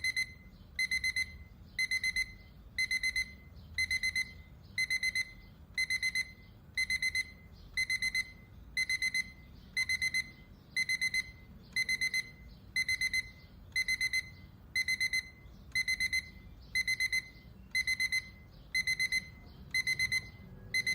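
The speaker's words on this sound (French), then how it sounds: "j'ai un souvenir très précis de ton réveil" An alarm clock rings on and off in a steady pattern of repeated electronic beep bursts, about one per second, loud and alone with no talking.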